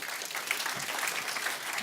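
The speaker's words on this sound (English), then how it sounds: "Let's give Sienna a round of applause." A group claps for a child helper in a short, continuous round of applause, lively and fairly even in level, with no words spoken over it.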